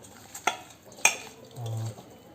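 Murrel fish frying in a pan is turned over, giving two sharp scraping clinks of a utensil against the pan and then a short buzzing sizzle, close and fairly quiet, with no voices.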